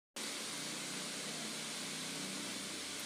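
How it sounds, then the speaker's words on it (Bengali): Black pepper and ground coriander fry in a pan on a low flame, a steady, dense sizzling hiss that starts abruptly and holds evenly throughout, with no voices. "লো ফ্লেমে ভাজা করছি।"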